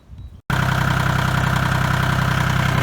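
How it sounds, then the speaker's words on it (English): A 1987 Kubota L2550 tractor engine cranks briefly, catches abruptly and settles into a loud, steady idle with a dense rhythmic chug, close by and with no voices. "It's going to be loud when I start the tractor, so I'll fire it up"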